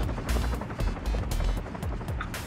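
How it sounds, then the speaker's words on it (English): Helicopter in The Escapists 2 prison-escape video game, a steady loud rotor drone with rhythmic chopping pulses and some sharp bursts over it, continuous across the whole moment. "Oh, we have a helicopter."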